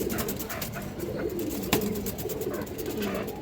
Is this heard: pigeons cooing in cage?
yes